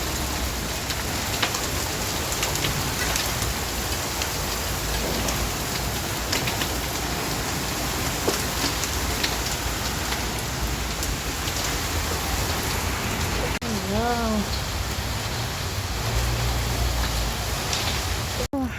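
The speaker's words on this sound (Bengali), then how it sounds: "জোরে বৃষ্টি আসছে, শিলা বৃষ্টি হচ্ছে।" A heavy rain and hail storm pours down as a dense, steady hiss of drops drumming on surfaces. The sound is constant and enveloping, with no talking.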